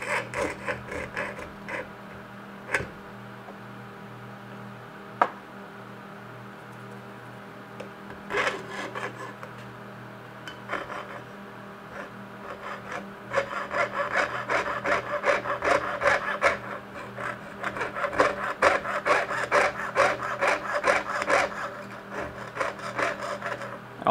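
A jeweler's saw cuts out a small silver or brass piece for a golden snitch necklace, with sparse scattered strokes at first, then a steady run of fast, rasping back-and-forth strokes, close and loud, with no talk.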